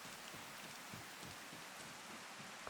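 Rain falls in the survival video game Go Wayback, a soft, steady patter of drops on surfaces that stays faint and even throughout, with no voices.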